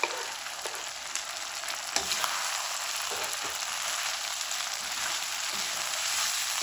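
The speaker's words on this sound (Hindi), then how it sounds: "अब यहाँ पे ग्रीन चिली है, ये मैं डाल दूँगी और ग्रीन प्याज जो मैंने बड़े बड़े पीस काटे थे ये डाल देंगे।" Green chili and large pieces of green onion fry in a pan, giving a dense, even sizzle that carries on without a break, with faint clicks and stirring sounds and no talking.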